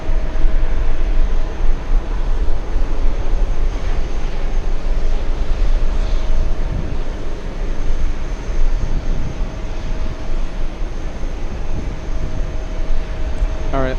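A Swiss airliner crossing a runway at New York JFK, a steady, moderately loud jet engine rumble with a constant whine running alongside it, heard from a distance without talk.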